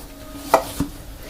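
A knife slicing the top off a peeled floury potato, two quick crisp cuts about a quarter second apart, close and fairly quiet.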